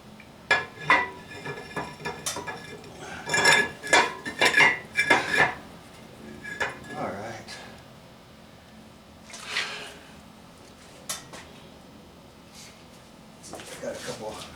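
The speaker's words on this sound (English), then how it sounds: "Got a couple wrenches." Metal wrenches clink and clatter as they are picked up and handled during a GM 9.5 14-bolt axle rebuild with a rear disc brake conversion, giving bright, uneven bursts of close metallic knocks while a person talks nearby.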